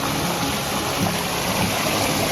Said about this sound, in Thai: ตอนนี้น้ำก็เริ่มไหลแล้วครับ